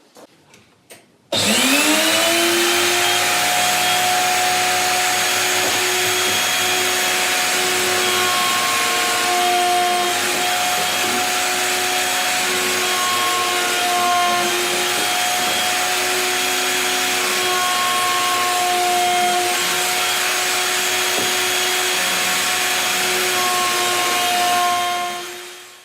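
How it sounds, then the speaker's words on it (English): An electric sander rounds off the corners of wooden parts for a round table, a few light knocks and then a sustained loud whining hum with a steady pitch for over twenty seconds, no speech. "I'm going to take off these corners just with the sander, just to protect from chips"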